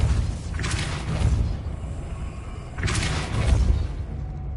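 Two whooshing magical blasts of the Depulso spell in Hogwarts Legacy, spaced about two seconds apart, each a broad burst with a low thump over a faint game background.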